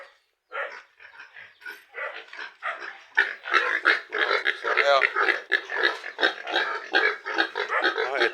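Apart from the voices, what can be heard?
pet pigs on a mini farm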